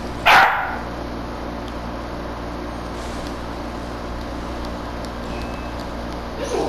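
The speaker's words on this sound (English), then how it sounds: "Sorry about the dogs, by the way." A dog gives one sharp, close bark at the very start, followed by a quiet stretch with a low steady background hum and a faint bark-like sound near the end.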